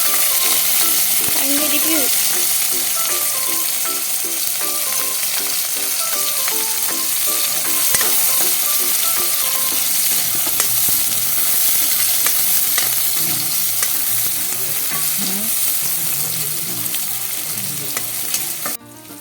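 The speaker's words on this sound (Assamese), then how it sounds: "আৰু সেই তেলতে দি দিম কাটি থোৱা পিঁয়াজ" Chopped onions and green chillies fry in hot oil left over from frying eggs, with a loud, steady sizzle and occasional stirring scrapes throughout and a faint melody underneath.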